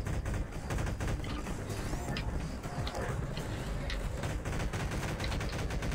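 Combine soldiers firing in Garry's Mod, a dense, continuous clatter of overlapping shots and bursts at steady loudness, with no pauses and crowded layers of battle noise throughout.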